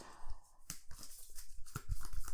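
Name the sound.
shuffling a deck of cards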